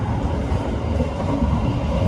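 Passenger train running near Gedangan station on an Indonesian railway, a steady loud rumble of wheels and carriage noise, continuous and close, with no voices.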